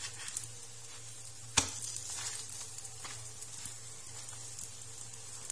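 Msemen flatbread cooks in a pan while being flipped, giving a faint steady sizzle with a sharp tap partway through and a few soft clicks, all fairly quiet.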